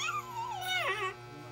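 A dog whimpers in a short, high, wavering whine that rises and falls for about a second, close and fairly clear over a faint steady hum.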